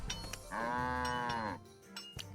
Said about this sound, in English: No, there's a cow, Keralis.